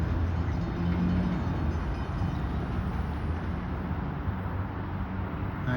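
An Amtrak train leaving in Springfield, Illinois, a steady broad rolling rumble with a faint high tone, continuous and fairly close, with no voices.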